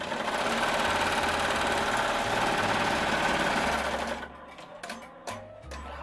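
Embroidery machine stitching out a keepsake design on old neckties at about 1,200 stitches per minute, a steady, fast, loud mechanical whirring rattle that cuts off near the end, leaving quieter thumps and clicks.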